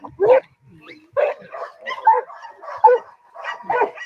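Protection dog barking and yelping in repeated bursts, about five or six loud close barks with whining in between, uneven and agitated.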